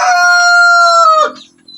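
A young stag rooster lets out one loud, close crow that holds strong and steady for about a second before breaking off, followed by a brief quiet cluck.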